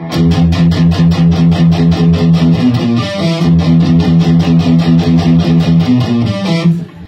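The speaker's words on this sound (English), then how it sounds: "you're down strumming, down picking, like that, and palm muting at the same time" An electric guitar plays a fast riff with down picking and palm muting, a steady stream of tight, chugging, evenly spaced muted notes, loud and alone, briefly shifting pattern midway before ringing out at the end.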